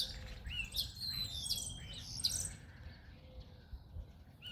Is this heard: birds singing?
yes